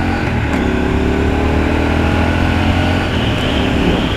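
The engine of a Triumph Scrambler 1200 XE motorcycle on the road, heard under heavy revs as a loud, continuous roar with rising, shifting engine tones throughout.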